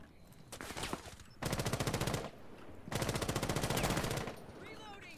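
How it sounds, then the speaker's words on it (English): Automatic gunfire from the Rainbow Six Siege video game rattles in two long rapid bursts, loud and dense, with quieter scattered shots around them. "Shoot that man, Ash."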